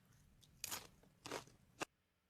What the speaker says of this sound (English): I'm gonna have to chew it now